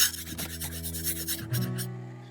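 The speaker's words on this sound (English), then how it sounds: "Here we are on our 400 grit stone." A chisel is drawn across a 400 grit whetstone in a few close, rasping strokes, with no talk.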